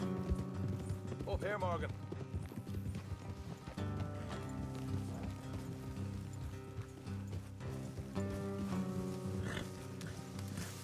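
Horses ridden along a road in Red Dead Redemption 2, a steady clip-clop of hooves running under a bed of game music, with a voice speaking briefly over it.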